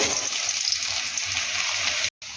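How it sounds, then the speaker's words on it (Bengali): Potatoes frying in mustard oil for Bengali shukto give a steady, dense, close sizzle that runs without a break, with a very short dropout near the end. "এবার আমি আলুগুলো আগে ভেজে নেব"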